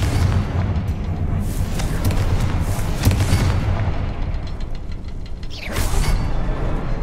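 Confringo blasting spell cast in the video game Hogwarts Legacy, producing loud booming explosions with crackling debris over a dense rumbling background, with a second burst near the end.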